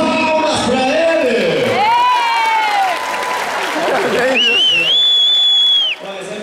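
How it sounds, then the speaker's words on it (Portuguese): Live audience clapping and cheering at a knife-thrower act, a dense crowd roar with whoops and shouts, loud and sustained before dropping off at the end. "Palmas pra ele!"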